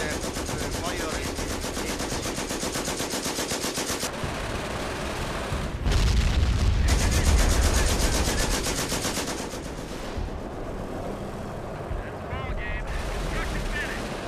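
Machine guns and support weapons fire in dense, continuous bursts in Company of Heroes 1, with booming impacts rising in the middle. The battle stays loud and steady throughout.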